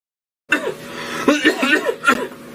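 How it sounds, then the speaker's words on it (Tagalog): A person coughs several times in quick bursts, fairly close and loud, with a few rough, throaty sounds mixed in. "napalala na sa ubo mo"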